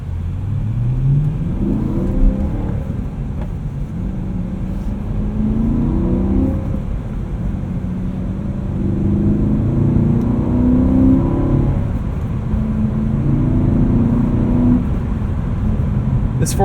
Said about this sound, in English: This 4-liter V8 sounds absolutely fantastic.